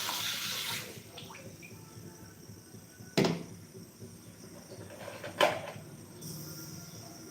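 Tap water runs quietly in a kitchen while ginger, onion and garlic are washed for a spice paste, with a gush at the start and two sharp clatters of utensils partway through.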